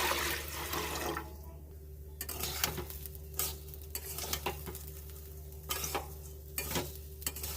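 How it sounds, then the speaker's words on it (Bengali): Water is poured into a pot of chicken dum biryani, a gushing, splashing rush at the start giving way to intermittent bubbling and sizzling with occasional clinks, fairly quiet and close. "তো বাকি জলটাও দিয়ে দিচ্ছি।"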